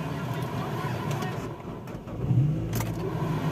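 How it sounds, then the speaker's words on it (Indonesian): Nissan Grand Livina engine turning over and catching, then settling into a low idle without throttle, moderately quiet and heard close by. "Oke, kita akan coba nyalakan mesinnya dulu ya."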